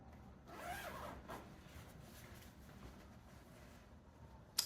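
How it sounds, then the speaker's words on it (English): Zipper on a sewing project being pulled open, a brief rasping burst early on, then soft handling rustle and a small click at the end, all quiet and close. "go ahead and open up the zipper"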